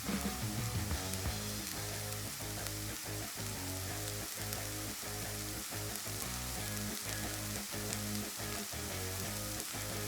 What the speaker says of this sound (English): So now we're gonna add these green beans. In they go, sizzle, sizzle, sizzle.